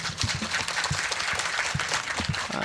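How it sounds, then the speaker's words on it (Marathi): An audience at a humorous kirtan, a devotional storytelling performance, claps in a steady, dense patter. The applause holds at an even level throughout, with no speech. "टाळी वाजू वाटली तरच वाजवायची, वाजूच वाटली तर वाजवायची."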